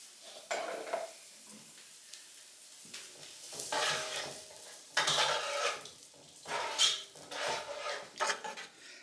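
Chopped onion hits heated oil in a pan and sizzles in rising bursts, mixed with clattering of a spoon and pan handling, close up and irregular, with no one talking.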